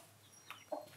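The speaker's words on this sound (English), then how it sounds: "Yeah, Mama Hen" A hen gives a couple of short, soft clucks nearby in an otherwise quiet space.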